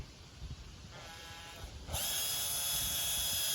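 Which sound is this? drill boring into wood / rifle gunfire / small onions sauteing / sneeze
drill boring into wood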